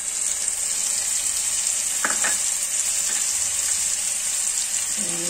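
Spices such as turmeric, chili, coriander and ginger-garlic paste simmer with water in a pan, giving a constant bright sizzle with a few soft clinks of a utensil midway.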